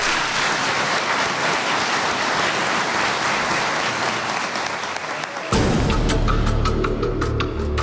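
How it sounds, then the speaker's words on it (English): Dense audience applause rolls on steadily like heavy rain, then shifts abruptly to a louder, closer wash of clapping with distinct sharp hand claps. "Give them a big round of applause."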